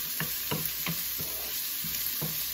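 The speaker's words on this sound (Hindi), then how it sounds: "फिर इसमें थोड़ी सी अदरक, थोड़ी सी लहसुन और करी मिर्च भी डाल देंगे." Ginger, garlic and curry leaves frying in a pan for Kerala-style moru, a steady sizzle with soft, regular stirring scrapes about every third of a second.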